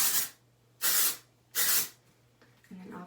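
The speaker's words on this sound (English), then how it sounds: "I'm just going to spray it under all of this here." Three quick bursts of hissing texture hair spray from a can, close and distinct, with short pauses between them, then soft handling noise.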